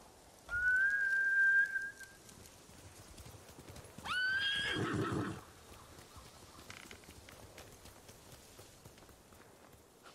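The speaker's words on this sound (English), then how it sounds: "Bastards scared off the horses." Samurai war horses in the Ghost of Tsushima video game give two loud shrill neighs a couple of seconds apart, with faint hoof clip-clop beneath them and a quiet ambient background.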